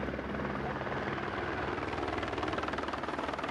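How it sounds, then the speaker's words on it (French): A helicopter flying among mountains, a steady loud rotor chop and engine roar that continues throughout without break. "y'a que des hélicoptères dans le coin ou comment ça se passe?"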